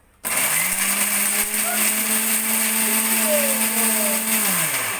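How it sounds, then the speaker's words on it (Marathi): A mixer grinder whirs to life abruptly and runs at a steady high-pitched whine, then slows slightly near the end. "चला आता हे मिक्सर घेतला मी ह्याच्यामध्ये वाटून घेते"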